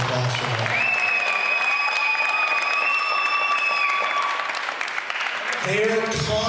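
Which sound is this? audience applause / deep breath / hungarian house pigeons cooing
audience applause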